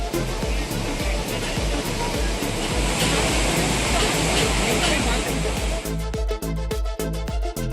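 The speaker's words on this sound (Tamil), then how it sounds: "தென்காசி மாவட்டம் குற்றாலம் மெயினருவி மற்றும் பழைய குற்றால அருவிகளில் வெள்ளப்பெருக்கு ஏற்பட்டது." Floodwaters pour over the Main Falls and Old Courtallam falls in Tenkasi district after heavy rain, a loud, continuous roaring rush with steady low rumble and scattered sharper splashes toward the end.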